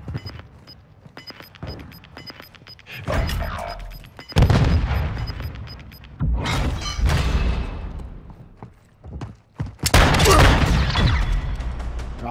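Gunfire in a shooting video game comes in several loud bursts and single shots, with a sharp burst around the middle and a heavy volley near the end, set against a quieter ambient background.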